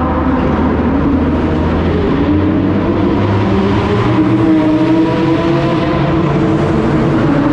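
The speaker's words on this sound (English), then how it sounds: "we got footage of a tunnel blow-by and got to see, you know, the Lamborghini and Porsche and GTR and RS6 as they went by." Several supercars, a Lamborghini, a Porsche, a Nissan GT-R and an Audi RS6, roar past inside a tunnel, a loud continuous engine drone that echoes and swells as they pass, with no talking.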